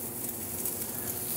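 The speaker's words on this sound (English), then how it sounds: "Nice sizzle, it's ready to go." Meat fat pressed onto a hot grill sizzles in a steady, crackling hiss, fairly close and with no other sounds over it.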